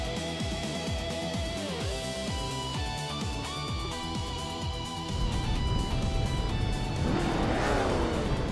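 A classic 1967 Plymouth GTX race car engine in a racing video game at the Curitiba circuit, loud and close, revving and climbing through gear shifts, with the engine note rising into a harder roar near the end.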